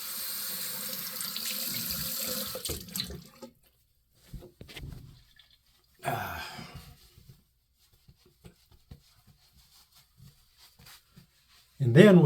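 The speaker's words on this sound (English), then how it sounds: "let me rinse the alum." An alum block is rinsed under a running bathroom tap: a steady gush of water for about three seconds, then brief splashes, another short burst, and near-silence with small handling sounds, close by.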